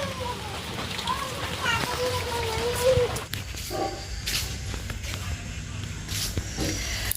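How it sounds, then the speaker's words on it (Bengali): Light rain falls outdoors in a village, making a soft, steady patter and hiss that runs throughout. Faint voices and scattered household sounds sit in the background. "এদিকে বৃষ্টি পড়তেছে হালকা হালকা টুকটুক করে"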